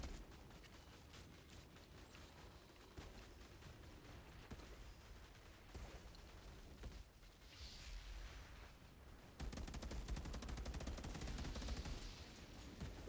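Gunfire from a weapon in the video game Outriders: a quiet, dense stream of rapid shots with mechanical clatter, steady for several seconds and growing louder and busier toward the end, with no talking.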